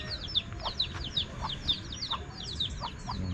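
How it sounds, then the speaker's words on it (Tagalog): Chickens cluck in a quick, repeated series of short calls close by, with a faint low background rumble and no talking. "Yung mga manok pa oh."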